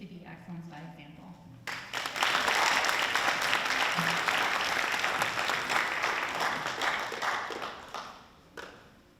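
An audience at a school board of education meeting bursts into applause for award recipients, a dense wash of clapping rising after a brief lull, holding steady for several seconds, then thinning out to a few final claps.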